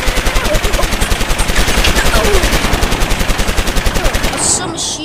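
Submachine gun fire rattles out in Call of Duty Modern Warfare as a loud, continuous rapid burst of evenly spaced shots lasting several seconds.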